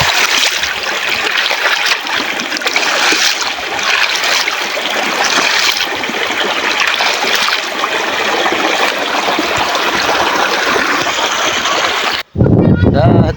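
River water rushing and splashing continuously close by where children bathe during a power outage, a dense steady wash with brief splashes and voices mixed in, cutting off abruptly near the end.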